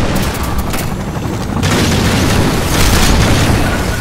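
Constant loud gunfire from enemy fighters in the Half-Life game world, a dense, steady barrage of overlapping shots and booms that never lets up, with no voices over it.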